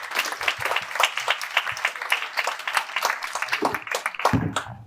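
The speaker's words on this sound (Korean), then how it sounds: "나오실 때 박수 부탁합니다." Applause at a convention as a speaker walks on stage, a moderate crowd clapping with distinct individual claps audible up close, thinning out near the end.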